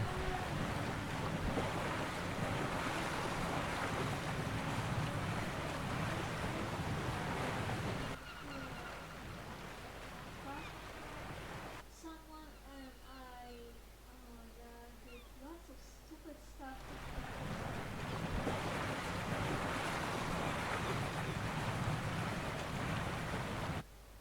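A ship sails across ocean waves in the video game Final Fantasy XIV: Stormblood, with a broad rush of wind and surf that dips midway while voices briefly come through, then swells again.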